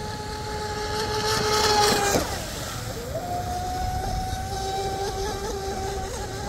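A small RC race boat motor (Oxidean Marine Dominator, Castle Creations power) whines at a high pitch, surges loudly, then drops and settles into a steady buzzing drone a short distance away.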